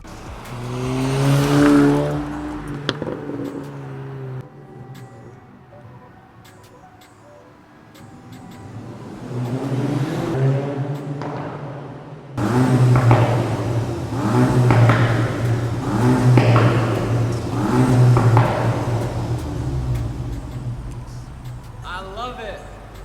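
A Volkswagen MK8 GTI engine revs loudly through an MBRP cat-back exhaust, throaty, rising and falling in several bursts, with people talking over it in a parking garage.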